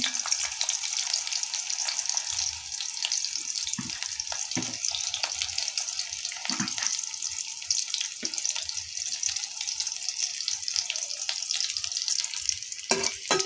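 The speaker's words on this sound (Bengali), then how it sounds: "পেঁয়াজটা ভালো করে লাল লাল করে ভেজে নিব" Onion and garlic fry in hot oil in a kadai, giving a steady, close sizzle and crackle that runs throughout, with occasional clinks and stirring knocks.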